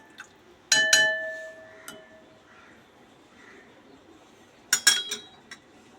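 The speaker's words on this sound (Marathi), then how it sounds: "त्याच्यावर मी झाकण ठेवते म्हणजे उकळी लवकर येईल" A metal lid is set onto a cooking pot of heating water, giving two bright ringing clinks with a short metallic resonance, separated by a few seconds of near silence and a small tap.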